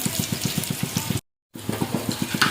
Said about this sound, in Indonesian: ini kita goreng sampai kering ya, atau sampai ke coklat-coklatan